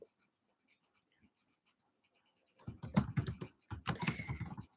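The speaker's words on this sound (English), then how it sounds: "And let me type while I do this." Typing on a computer keyboard: a few faint isolated taps, then a burst of rapid close clicking keystrokes with a brief pause in the middle, heard alone.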